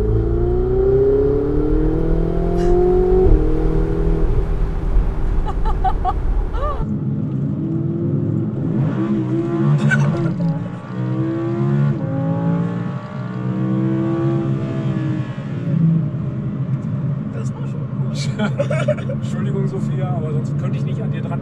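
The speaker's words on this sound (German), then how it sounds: "Den Ferrari hier so zu starten." A Ferrari 488 Spider engine turns over, catching with a low rumble and then revving in rising and falling sweeps, heard close and loud while people talk over it.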